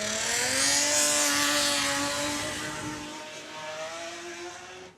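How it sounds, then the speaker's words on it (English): A big black race car's engine revs hard at a short course enduro racing event, a loud, fairly close, sustained roar that eases off and then climbs again. "Have a listen to the big black car."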